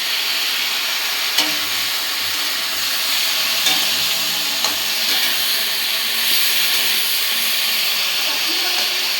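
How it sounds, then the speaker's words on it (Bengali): Large cut cauliflower pieces frying in a pan give off a constant hissing sizzle throughout, with a few sharp pops and faint stirring sounds mixed in. "বড় বড় করে ফুলকপি কেটে নিয়েছি, ওরা ভাজা করছি।"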